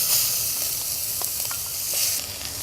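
Onions and garlic sizzle in a saucepan, a steady bright hiss with faint crackles, close and even, with no voices.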